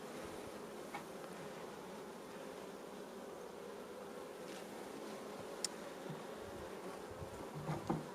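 Honeybees in an opened hive during a spring search for the queen: a steady, dense buzzing drone throughout, fairly close and even, with a few faint knocks near the end.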